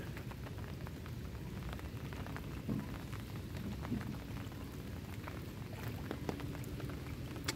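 Steady rain falls during a boat ride over floodwater near a farm, a dense, continuous patter and hiss with scattered louder drops, and no voices.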